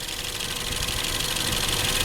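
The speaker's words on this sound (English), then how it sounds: "Under here is a 2-liter Ecoboost 4-cylinder, 230 horsepower, 240 with premium gas." A 2014 Ford Fusion 2.0 EcoBoost direct-injected four-cylinder engine runs at a steady idle, close up, with a continuous dense whir and fine ticking and no talk.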